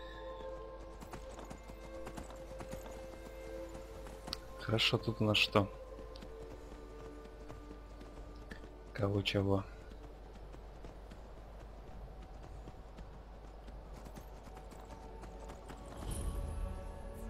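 Horse hooves trotting in Skyrim, heard as two short clattering bursts of clip-clop over quiet wilderness ambience, with someone talking at times in the clip.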